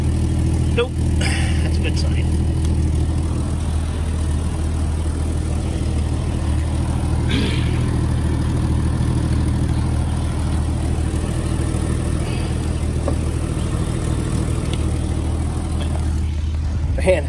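A 1998 Jeep Wrangler engine idles steadily after a dead start, a constant low rumble that runs the whole time with a few faint clicks and handling noises over it.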